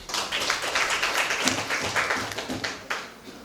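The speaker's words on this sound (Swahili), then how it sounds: "Na tumpigie makofi mwenyekiti." A crowd at a public meeting applauding a chairman with dense, continuous clapping that holds steady, then thins out slightly at the end.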